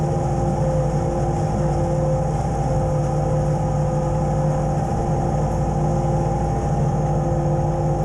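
John Deere 2210 sub-compact tractor pushing a snow plow along a long driveway, its engine droning at a steady, close, unvarying rumble throughout with no talking.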